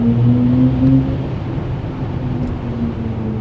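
Inside a BMW iX xDrive50 electric car at high speed, a steady low rumble of road and wind noise fills the cabin, smooth and constant with no engine note.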